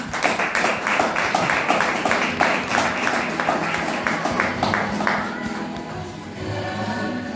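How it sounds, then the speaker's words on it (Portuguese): A church congregation claps and applauds in a dense burst of hand claps that carries steadily for several seconds and then thins out toward the end, with no speech over it. "Pode aplaudir, irmão."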